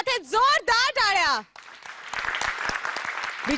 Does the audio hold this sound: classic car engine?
no